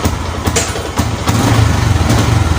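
Kick-started motorcycle engine misfiring and running rough, close and loud, with uneven sputtering pulses and irregular pops instead of a smooth idle.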